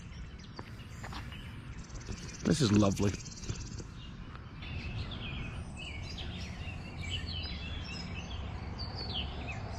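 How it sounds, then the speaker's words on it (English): Birds chirp and trill in the background in Grafton, scattered high calls over a steady outdoor hum, while a person speaks briefly. "I cannot get over the number of birds that I can hear and that I can see"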